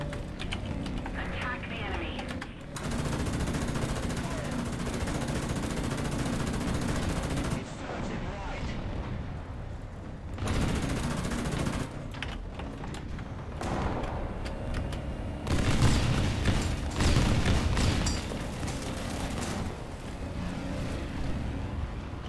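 Tank cannon and machine-gun fire in the War Thunder video game, with repeated loud bursts and shots over a constant rumble of engines and battle noise, while voices talk throughout.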